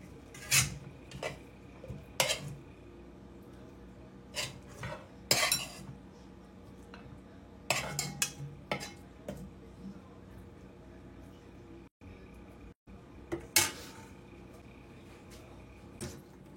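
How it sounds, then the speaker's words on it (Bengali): A cooking pot is being washed, with scattered metallic clanks, scrapes and clinks of cookware at close range between quieter gaps, a voice talking softly at times. "পাতিলা ধোয়ার জন্য"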